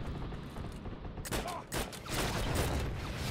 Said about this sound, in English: I heard fucking MG opening up at me.